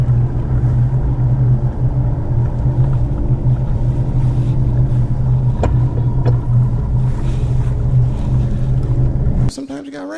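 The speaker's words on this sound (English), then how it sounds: "A lot of boats out here fishing today, a lot of pressure." Fishing boats crowd the water during a bass fishing outing, their engines forming a loud, steady low drone that runs almost the whole time before cutting off abruptly near the end.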